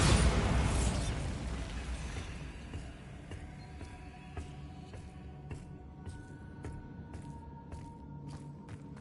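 Bombarda blasting spell in Hogwarts Legacy, a loud booming burst at the start that decays over a couple of seconds into faint clicks and rattling debris.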